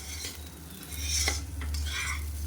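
Spices, black pepper and turmeric among them, are stirred and fried in a pan, giving a steady low sizzle with soft scraping strokes of a utensil throughout, fairly close and with no voices.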